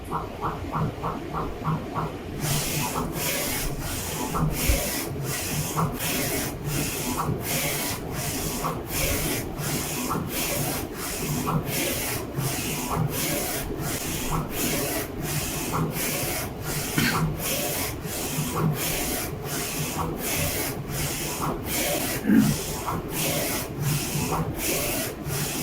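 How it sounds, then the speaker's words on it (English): A printer running after the RIP process, a steady mechanical whir with rapid regular clicking pulses throughout, fairly loud and continuous with no voices. "And printer start printing."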